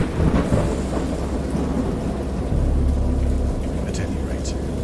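Thunderstorm in the Dagon video game, an H. P. Lovecraft adaptation: heavy rain with rolling thunder rumbling, loud and continuous, with a narrating voice over it.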